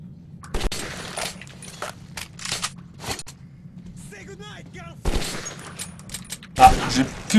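Gunfire in the video game Metro 2033 cracks out in several sharp, separated shots over a low hum, with someone talking between the bursts.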